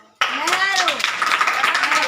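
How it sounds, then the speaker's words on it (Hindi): Schoolchildren in a class clapping together, a dense burst of many hands that starts abruptly and keeps going, with young voices calling out over it. "ताली बजाओ।"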